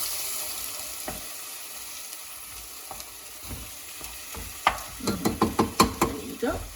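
Fresh tomato and passata mixture going into a hot pan for chole, a low steady sizzle that breaks into a quick run of wet clattering bursts near the end, with no talk.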